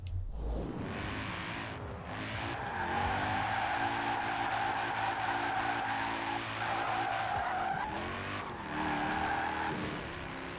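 A vintage Mercedes drifts in Forza Horizon 4, its engine droning loudly and steadily while the tires squeal continuously, with the pitch rising and falling as the car slides through the corners.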